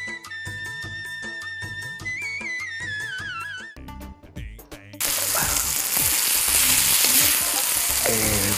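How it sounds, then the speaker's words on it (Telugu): Dried red chillies fry in oil in a hotel-style kitchen. Music with bright melodic tones plays first, then a loud, dense, crackling sizzle takes over and continues to the end. "ఎండు మిరపకాయలు బాగా వేయించాలి"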